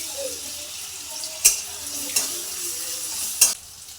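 Ginger-garlic paste and chopped tomato fry in a pan for a prawn and ridge gourd curry, a steady hiss broken by a few sharp scraping stirs at a moderate, close level.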